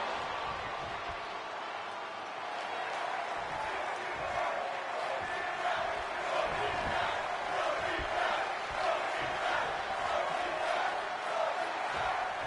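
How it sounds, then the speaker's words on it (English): Steady roar of a virtual wrestling arena crowd in WWE 2K22, a dense continuous wash of cheering and chanting that holds at an even level throughout with no clear breaks. "The crowd is loving it."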